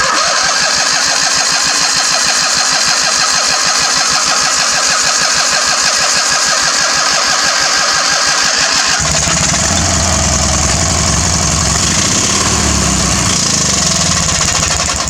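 A Murray engine cranks with a rapid, rhythmic chugging, then catches and roars into a loud, rough idle, close and continuous.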